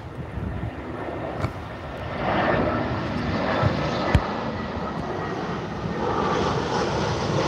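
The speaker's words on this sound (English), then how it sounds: "Next arrival now, EasyJet A320 coming in from Nice" An EasyJet Airbus A320 arriving from Nice at Liverpool Airport, a steady broad jet roar that swells slightly midway and holds at a moderate distance, with wind and faint background noise and no talk.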